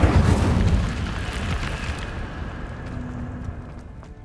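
Incendio fire spell cast in Hogwarts Legacy, a loud whooshing burst of flame that swells at once and then slowly fades over a few seconds, with no talking.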